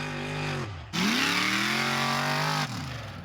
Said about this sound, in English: There's nothing like those V8 Chevys on full song. It sounds wonderful.